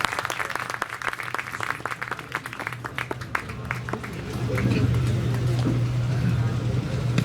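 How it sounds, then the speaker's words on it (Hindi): Audience applause at a Hindi comic poetry gathering in Chakradharpur starts as scattered claps under a voice, then swells into a dense, sustained ovation with a low hum running beneath. "जोरदार तालियां मांगिए सर के लिए।"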